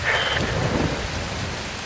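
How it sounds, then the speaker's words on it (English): Rain and wind in the video game Metal Gear Rising: Revengeance, a loud, steady wash of falling rain with a dull low rumble beneath it and no voices. "Wind blows. Rain falls."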